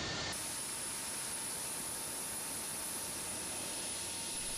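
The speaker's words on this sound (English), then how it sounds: "The startup of the F-22 Raptor reveals the power and sophistication of one of the world's" F-22 Raptor fighter jet engines running on a runway, a steady, loud broadband roar with a high whine, continuous throughout.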